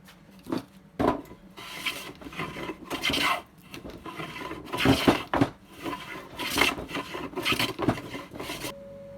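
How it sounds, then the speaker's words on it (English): Hand plane shaving dried glue residue off the top of a wooden English-style workbench, a run of rasping, scraping strokes in uneven bursts, close and fairly loud, with no talking. "I got to get this planed down, get all this glue residue off of here and everything"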